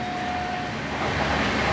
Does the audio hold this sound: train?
yes